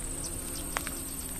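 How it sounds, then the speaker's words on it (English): Bees buzz among garden flowers where butterflies feed, a faint, steady insect hum with a couple of brief nearby buzzes passing close. "Good number of bees."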